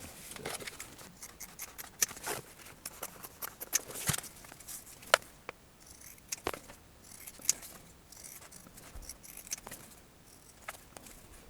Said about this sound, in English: I'm going to stick this onto the pleather like that, and then I'm going to carefully cut that out